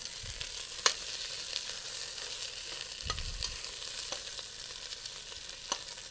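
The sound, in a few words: meat browning in a pan for pasta sauce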